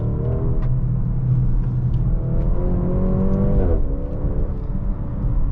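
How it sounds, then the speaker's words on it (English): A Maserati Grecale GT accelerates hard from a standstill, its engine note rising loud and close from inside the cabin, climbing through gears with a brief shift dip. "I'm just gonna stand on the throttle and see how it gets itself"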